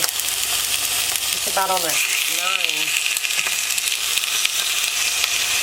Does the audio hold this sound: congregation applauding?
no